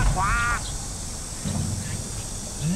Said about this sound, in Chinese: 你有没有听到鸭子的声音？